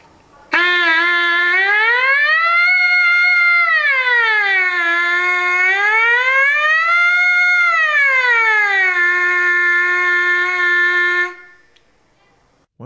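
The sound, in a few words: trumpet mouthpiece buzz changing pitch higher and lower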